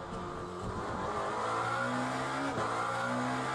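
A race car engine drones steadily through a slow tyre-warming lap in Le Mans Ultimate, with almost no grip on cold tyres. The loud, close engine note shifts in pitch as the car accelerates, with no voices over it.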